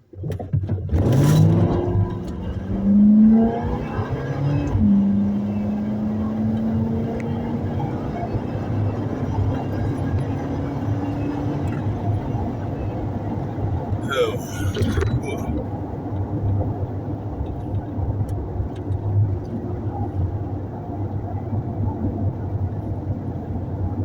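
Road traffic passes nearby: a car rises and falls with an engine swell in the first seconds, then a continuous rumbling wash of vehicles continues, with a brief scraping clatter midway.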